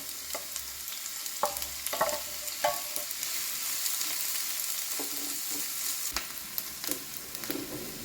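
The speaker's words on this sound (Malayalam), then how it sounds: "ചൂടായ വെളിച്ചെണ്ണയിൽ നമ്മൾ എടുത്ത സവാള അരിഞ്ഞത് ചേർക്കാം" Sliced onions crackle and sizzle in hot coconut oil, a continuous hiss broken by occasional stirring scrapes and taps.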